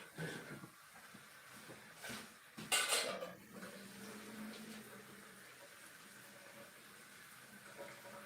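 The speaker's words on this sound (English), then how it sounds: "pasta back in the pot." Cooked pasta tipped back into a metal cooking pot in a home kitchen, with soft clinks and scraping of pot and utensil and one louder clatter in the middle, fairly quiet and close, no voices.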